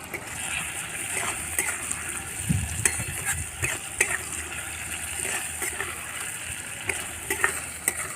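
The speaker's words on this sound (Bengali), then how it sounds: "ভালো করে মশলাটা কষিয়ে নিতে হবে" Cumin, chili, onion and tomato spice paste sautéing in a pan for a fish-roe fritter curry, a soft continuous sizzle with scraping stirs and occasional clinks, no talking.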